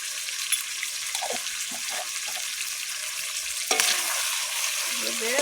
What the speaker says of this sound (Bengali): ভালোভাবে মিশিয়ে নেবো এইভাবে